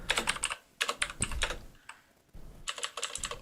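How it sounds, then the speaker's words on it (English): Rapid clacking keystrokes on a computer keyboard, typed in quick bursts separated by short pauses, close and fairly loud with no talking. "The clacks are soothing. People like the clacks."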